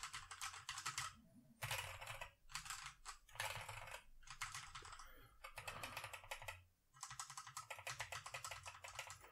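A Punkston TK106 mechanical keyboard with red switches being typed on, bursts of rapid, close clicking keystrokes separated by brief pauses, with quiet talking in places.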